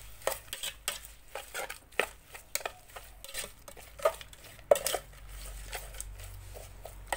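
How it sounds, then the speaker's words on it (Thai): A spatula scrapes and clatters against a pan as ingredients are dry-roasted over the fire in a kitchen, sharp rhythmic stirring strokes repeating close and loud with no voices. "นี่ครับตั้งไฟแล้วก็คั่วเลยนะ"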